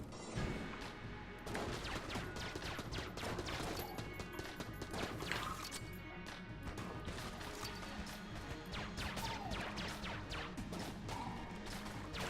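Trash cannon gunfire in the video game Enter the Gungeon: dense, continuous barrage of crashing, smashing shots and impacts layered over game music, steady and loud throughout with no pauses.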